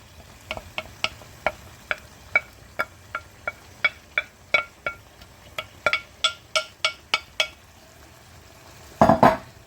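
Vegetables are stirred in a pan with a utensil that knocks against the side in a steady series of sharp taps. Faint sizzling sits underneath, and a louder scraping burst comes at the end.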